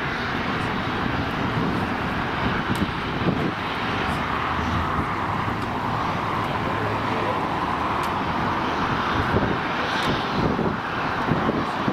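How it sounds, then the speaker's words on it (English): A Vista private jet lands at LAX, its engine roar a steady, loud broadband rush with a low rumble that holds for the whole stretch, with road traffic noise mixed in. "That was the Vista jet that just landed with Taylor Swift at LAX."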